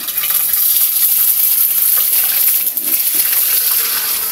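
Corned beef frying with little oil in a preheated pan, a steady close hiss and crackle of sizzling meat that runs without a break.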